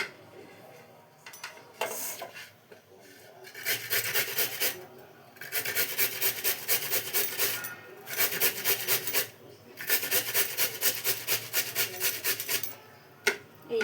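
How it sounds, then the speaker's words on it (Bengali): A peeled, washed radish being grated on a kitchen grater for radish paratha, a close rasping scrape repeated in steady rhythmic bursts with short pauses between runs, no talk. "এইভাবে আমি পুরো মূলোটা ঘষে নিচ্ছি।"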